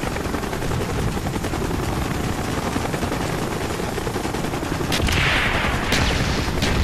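Hornet helicopters circle overhead in Call of Duty Black Ops, a steady loud rotor drone mixed with dense, continuous gunfire and chatter, with a few sharper cracks near the end.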